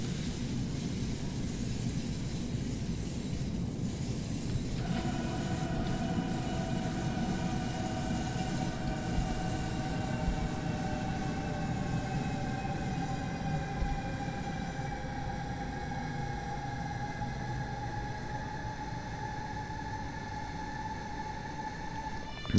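A Hamburg S-Bahn BR 474 electric train runs in Train Simulator 2018, with a steady rolling rumble and rising whine tones as the motors load up, continuous and moderately close, with no talking.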